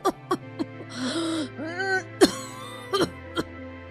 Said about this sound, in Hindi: वो फिर से दोबारा तेज खांसने लगी